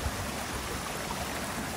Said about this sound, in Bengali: এই যে এদিকে আস্তে আস্তে বয়ে গেছে ঝর্ণাই থেকে নেমে আসা পানি